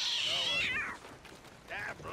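A cat in a western open-world video game lets out two meows, the first long and drawn out, the second shorter after a brief pause, close and clear.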